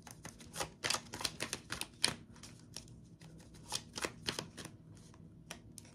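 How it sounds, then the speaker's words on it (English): A deck of tarot cards being shuffled by hand, close and quiet, with rapid riffling flutters and crisp snaps in irregular bursts and short pauses between them. "And I just shuffled."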